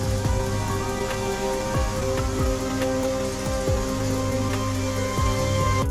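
Light rain falling steadily under clouded skies, a continuous dense patter of drops with scattered sharper hits, close and even throughout with no voices.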